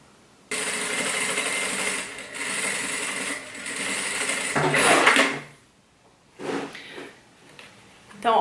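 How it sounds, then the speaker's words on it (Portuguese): A sewing machine stitches the side seam of a fabric tote bag with a zipper, running in close, buzzing bursts separated by short pauses and a few handling knocks. "E continua costurando, seguindo a margem de costura aqui dessa lateral."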